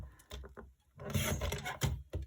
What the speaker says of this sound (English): So let me trim off a touch here.